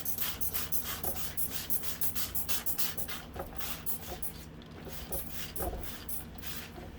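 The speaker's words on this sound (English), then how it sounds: "Just my spray bottle with water." A run of quick, soft hissy bursts repeats at a steady pace, like a hand-pump spray bottle misting water several times in a row.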